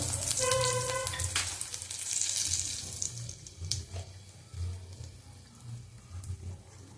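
Bay leaf and a cut dried chili frying in hot oil, giving a steady, fairly quiet sizzle with soft bubbling and occasional stirring scrapes.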